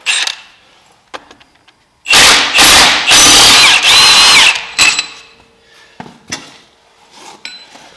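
A power tool drives the stock seating bolt back into a Polaris P22, running in a loud sustained burst of several close pulses, framed by brief metallic clinks and handling knocks.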